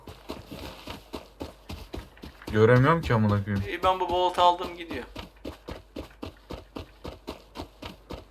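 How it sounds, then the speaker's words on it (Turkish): Horse hooves clip-clop in a steady rhythm while a horse is ridden in the survival game Rust, close and regular throughout, with someone talking loudly over the middle stretch. "Yok Arap atı değil bu."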